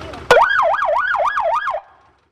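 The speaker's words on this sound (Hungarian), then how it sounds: "amit be tudunk kapcsolni, és akkor működik a sziréna" A police motorcycle siren switches on abruptly and wails in a steady rising-and-falling pattern, about four cycles, close and loud, then cuts off and fades into silence.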